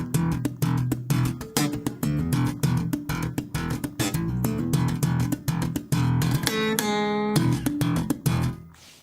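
A bass guitar plays the riff, a rhythmic run of plucked, percussive notes with short fills and slides, played solo and fairly close.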